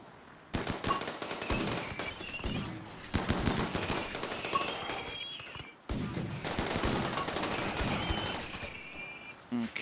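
Sustained gunfire from a Rimworld battle, with rapid bursts and volleys of shots crackling almost continuously across the stretch, loud and dense, with brief lulls between salvos.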